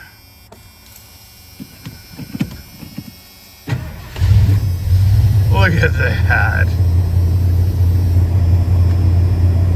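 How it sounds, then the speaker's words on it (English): A 1986 Ford F250 XLT Lariat pickup engine cranks and catches, then settles into a steady loud low idle rumble; a person speaks briefly before it starts. "Quick pump of the gas pedal, turn the key, and it runs."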